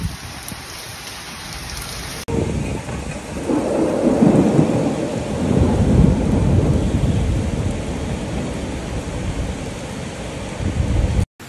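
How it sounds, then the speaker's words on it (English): A loud thunderstorm in Paris with a heavy, steady downpour, wind and low rumbling thunder rolling through, the rain roaring continuously from start to finish. "a huge curtain of rain and wind like in a tropical storm"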